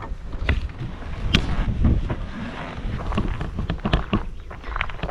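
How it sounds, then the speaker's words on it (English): Gusty wind buffeting the microphone outdoors along the Dalton Highway in Alaska, with rumbling low noise and occasional knocks and rattles. "it is a little windy and a little chilly"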